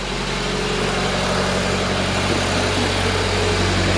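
A loud, steady car engine idle rumbles close up without a break, intake manifold covers removed, a deep continuous drone with a rough mechanical rattle layered on top.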